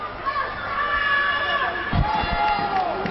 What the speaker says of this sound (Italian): e l'applauso per Diacio